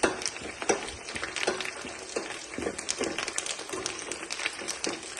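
Curry leaves hitting hot oil in a pan for munakaya (drumstick) pachadi, giving a close, steady crackling sizzle with scattered sharp pops throughout and no voices.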